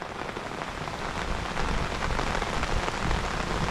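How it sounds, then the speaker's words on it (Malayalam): Steady rain pattering onto water around a small boat among mangroves at Munroe Island, a dense continuous hiss of drops with no voices, close and fairly loud throughout. "ഈ മഴൻ്റെ സൗണ്ട് ഇങ്ങനെ കേട്ട് ആസ്വദിച്ച്"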